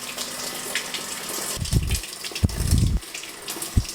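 Water rushes steadily through the drain line of a semi-automatic washing machine's wash tub, a broad continuous gush with a few heavier low surges and thumps near the end.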